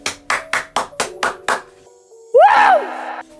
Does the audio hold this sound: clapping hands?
yes